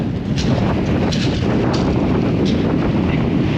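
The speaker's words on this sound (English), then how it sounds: "And it's bloody windy." Strong wind on Chesil Beach, a long shingle beach, buffets the microphone in a constant low roar, with a few brief gusty bursts and no voices.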